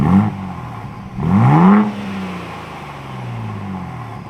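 In sport mode, the active exhaust of a Ford Bronco Raptor gives a quick blip and then a stronger rising rev that drops back to a burbling idle, close up and alone with no voices.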